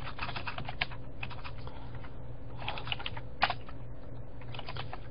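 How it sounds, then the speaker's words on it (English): Steady clatter of typing on a computer keyboard, quick irregular keystrokes running throughout with one sharper tap near the end, heard alone with a low background hum and no talking. "and I'll type it in the chat room."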